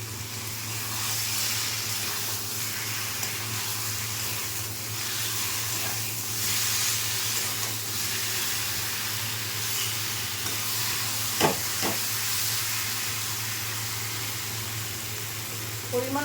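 Potatoes and cabbage frying in a pan for a cabbage kaliya, a steady sizzle and hiss running throughout with a low hum beneath and a few sharp clinks near the end.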